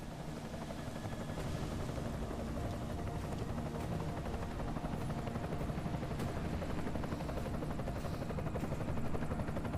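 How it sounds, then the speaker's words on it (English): Enemy helicopter in the video game Deus Ex: Mankind Divided, a steady loud rotor drone with dense broadband roar holding constant throughout, no speech. "Enemy helo sighted."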